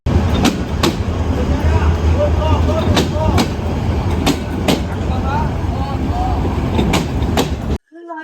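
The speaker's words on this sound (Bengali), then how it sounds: "তো ফাইনাল এখন ট্রেন চলে এসেছে" A train rumbles in loudly, with steady heavy rolling noise and sharp rhythmic clacks of wheels over rail joints, ending abruptly.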